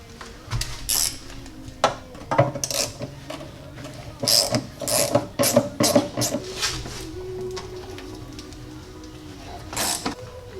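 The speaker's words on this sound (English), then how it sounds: "remove the 15 millimeter bolts and nuts off the cross member" Ratchet wrench loosening 15 mm bolts and nuts on the cross member of a Jeep Cherokee during a transmission mount replacement, giving irregular bursts of metallic clicking and clanks close by, with pauses between bursts.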